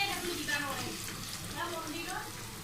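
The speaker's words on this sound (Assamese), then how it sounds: "ইয়াত মই এতিয়া পিঁয়াজখিনি ৰঙচুৱা হ'বলৈ দিম।" Finely chopped onions fry in a pan for chicken biryani, giving off a steady, dense sizzle with faint stirring that runs the whole time, close and fairly loud.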